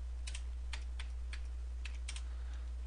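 Light clicking of typing on a computer keyboard, a handful of short faint keystrokes in uneven groups over a steady low hum.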